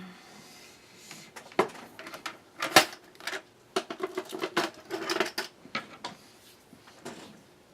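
Scissors snip through material at a crafting table while a seashell memory keepsake in a glass container is made, giving a string of short, crisp clicks and cuts with quick rustling and handling clatter between them, close and fairly quiet.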